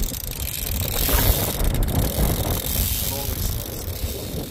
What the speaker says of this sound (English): It is now getting windier